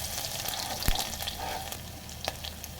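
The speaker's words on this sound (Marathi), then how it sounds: "तेल छान तापलं जिरे टाकते कढीपत्ता टाकते" Cumin, curry leaves and crushed garlic sizzle in hot oil, a close, dense frying hiss with a few sharp pops and clatters.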